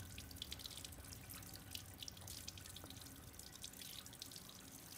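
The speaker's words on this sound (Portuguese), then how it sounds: "Vocês vão abrir a torneira." Water running from a tap in the video game Resident Evil Village, a steady hissing flow with faint dripping, heard alone at low volume.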